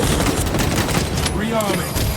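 Rapid bursts of gunfire from Warhammer 40K Space Marine 2, dense and loud, firing continuously with a booming low rumble for about two seconds.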